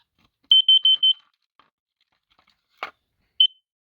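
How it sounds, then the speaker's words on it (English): A battery-powered carbon monoxide and smoke detector gives four quick high-pitched beeps in a row, then a short burst of noise and one more chirp, all near and sharp against silence. "Warning, carbon monoxide, monoxide de carbone."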